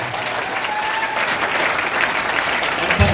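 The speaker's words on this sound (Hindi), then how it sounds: "एक जोरदार ताली सर के लिए" An audience at a C.N.S. Hazaribagh event gives a hearty round of applause, a close, dense, continuous clapping that holds steady at full strength.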